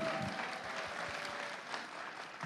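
Applause from the audience at a youth victory celebration gathering, a soft, sustained crowd clapping heard at a distance in a reverberant room, with scattered closer claps early on.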